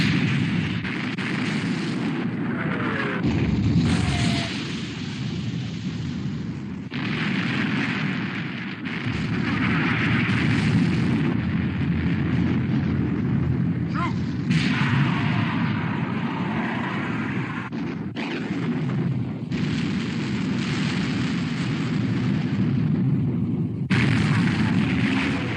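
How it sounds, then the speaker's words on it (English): Heavy naval gunfire in an old black-and-white war film as the battleships Prince of Wales and Bismarck exchange fire, loud booming blasts over a constant roar of sea and engine noise, with brief shouted voices. "Prince of Wales and Bismarck exchanging fire."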